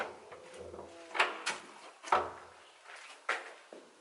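A door in an abandoned asylum clunks and scrapes as it opens or shuts, several faint knocks and creaks spread over a few seconds in a quiet, echoing space.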